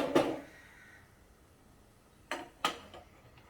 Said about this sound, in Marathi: हे भांडं मी बाजूला ठेवते